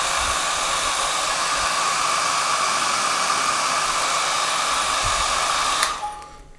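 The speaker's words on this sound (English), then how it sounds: "warm that masking tape up with a hairdryer like this lot" A hair dryer blows with a steady, loud broadband whoosh, warming masking tape on a watercolor painting, running continuously before cutting off near the end as the motor winds down.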